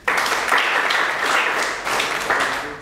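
An audience at a voting meeting breaks into applause, dense overlapping hand claps at close range, continuous for the whole stretch with slight swells; no speech over it.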